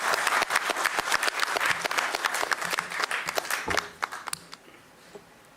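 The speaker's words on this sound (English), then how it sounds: "Please give a round of applause for him." Audience applause for an author at a law book launch, a dense burst of clapping that thins into scattered individual claps and fades to near quiet about four seconds in.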